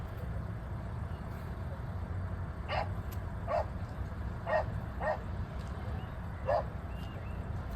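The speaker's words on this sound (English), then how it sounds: "Can you hear that dog?" A dog barks in the distance in Wales, five spaced woofs over a steady background hum.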